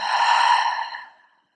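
One long, steady exhale during a core workout breathing exercise, a close, breathy rush of air that holds for about a second before fading away to silence.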